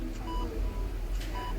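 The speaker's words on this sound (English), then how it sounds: "small, infernal machines with microchips go beep" Electronic hospital machines beep in short, evenly spaced tones over a steady low hum of ward background noise.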